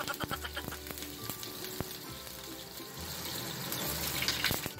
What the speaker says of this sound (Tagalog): So habang piniprito po natin ang ating patatas